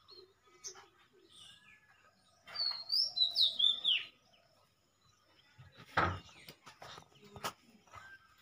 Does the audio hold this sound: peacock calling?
yes